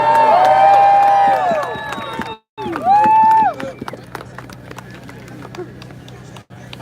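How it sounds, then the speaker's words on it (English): A crowd at a vape rally in Washington, DC cheers and whoops loudly for a speaker, with voices rising over the noise, then settles into scattered, fainter clapping after a brief pause. "give her a big applause, please"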